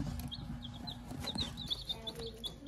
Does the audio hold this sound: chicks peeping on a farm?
yes